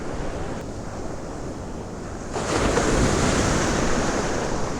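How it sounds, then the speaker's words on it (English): Ocean surf breaking steadily on a beach with a sandbar, a continuous broadband wash that swells louder partway through as a bigger wave rolls in, with wind buffeting the microphone. "The waves are perfect."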